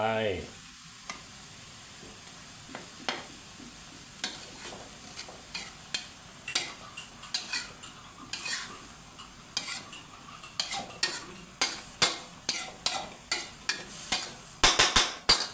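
Eggs stir-fried with garlic chives in a hot pan, a steady sizzle under repeated sharp scrapes and clacks of a spatula against the pan that grow louder and faster toward the end.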